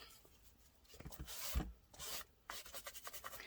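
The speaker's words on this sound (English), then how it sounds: "There's a little bit of that ink still left on here, so I'm just rubbing that in a few areas" Ink being rubbed by hand onto a mixed media canvas for an art journal cover, soft close scraping and rubbing strokes in irregular bursts, quiet with no talking.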